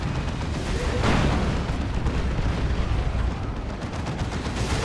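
Rocket run barrage in the Warhammer 40,000: Dawn of War 2 strategy game, a dense rumbling stream of booming explosions and gunfire, loud and continuous with no talk over it.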